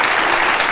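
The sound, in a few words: audience clapping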